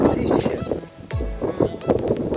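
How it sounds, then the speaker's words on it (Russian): Strong wind buffets the microphone outdoors in a garden with an apple tree and currant bushes, gusting loudly throughout while someone talks over it. "Какое ветрище."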